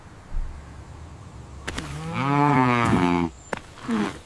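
A cartoon cow gives one long, loud, wavering moo, preceded by a thump and followed by a brief short sound, with quiet background in between.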